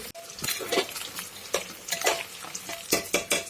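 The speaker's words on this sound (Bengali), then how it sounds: "কড়াই বসিয়ে দিয়ে দিলাম তেল, আর তেলটা গরম হয়ে গেছে, দিয়ে দিলাম মাছ।" Fish fry in hot oil in a wok, with faint crackle and sizzle under a series of soft bursts from stirring and turning. The cooking sounds are quiet and close, and no one talks.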